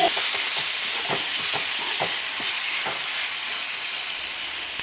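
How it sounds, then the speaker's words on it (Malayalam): Onions and tomatoes sautéing in a pan give a steady, dense sizzle with repeated soft stirring scrapes, close and continuous throughout, with no talking. "അപ്പോൾ നമ്മൾ ഇതുപോലെ നന്നായി ഒന്ന് വഴറ്റിയത്"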